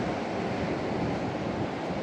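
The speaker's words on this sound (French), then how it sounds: "le bruit des vagues, c'est très apaisant" Ocean waves wash against the rocky Brittany coast near Cancale as a continuous soft, far roar of surf blended with wind, steady and with no voices.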